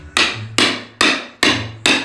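Hammer blows land on tough wooden pallets being broken apart, five loud, sharp whacks at a steady pace about every half second, each with a short ringing decay, close and with no talk.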